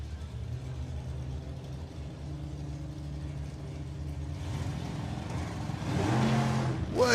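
A drag racing van accelerates down the strip at Santa Pod during a Volkswagen drag racing event, with a distant, fairly faint engine drone that swells toward the end against open outdoor ambience.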